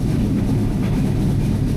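A loud, steady low rumble of the Silk City Express train running along the tracks between Dhaka and Rajshahi, continuous with no pauses.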